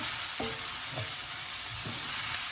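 Spinach with ground cumin cooks in a pan for palak paneer, a constant close hiss of sizzling with a few soft stirring knocks spaced through it.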